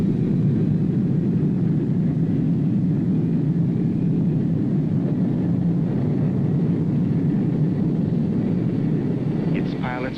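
Military aircraft, a Vietnam-era medical evacuation plane, rumbling with a steady low engine drone as it prepares to take off from the runway, the sound constant and heavy throughout under radio voices.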